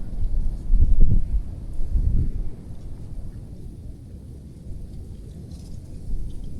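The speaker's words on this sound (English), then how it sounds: "She's windy." Strong winter wind in the Rocky Mountains buffets the microphone at a tarp campsite with a deep, rumbling roar, gusting harder at first and then settling into a steady blustery rush.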